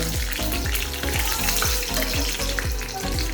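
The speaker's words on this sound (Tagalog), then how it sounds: "Hayaan nyo lang siyang mag-caramelize." A steady, loud sizzle of sugar bubbling and caramelizing in a hot pan while cooking turon, a Filipino snack, with rhythmic stirring scrapes and no talking.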